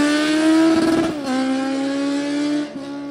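A new superbike's engine revs loud and close, a sustained high-pitched drone that holds steady, dips slightly as the revs fall, then picks back up near the end, with no talking.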